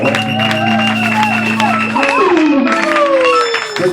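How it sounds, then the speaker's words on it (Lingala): A church congregation cheers and applauds for God, with claps, whoops and shouts, while tonal music or singing and a voice carry on over the crowd. "acclamer très fort pour Dieu"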